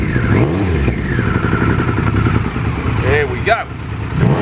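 A Triumph Daytona 955i cafe racer motorcycle idles and is revved in rising and falling sweeps, the engine loud and close, with a person speaking briefly over it.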